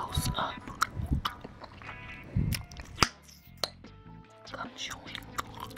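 Close-up bubble gum chewing and popping, with wet, sticky smacks, bites and small clicks repeating in an uneven rhythm right at the microphone, plus a few faint breathy whispers.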